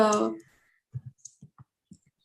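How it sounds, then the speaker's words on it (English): Scattered soft keyboard clicks sound during an online meeting, a few sparse, quiet keystrokes in near silence after a short burst of speech. "there's a lot of typing today, clearly."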